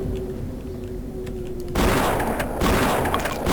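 Bursts of gunfire from a stone gargoyle-like enemy in the shooter game Blood, loud sustained fusillade starting midway after a quieter stretch, with a brief dip before another volley.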